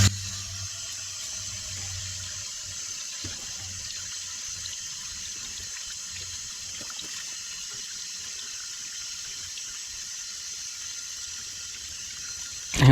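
A K&N air filter for a Toyota Tacoma cold air intake is rinsed under running tap water, a steady, moderately loud splashing stream that carries on unbroken, with a brief louder splash at the end.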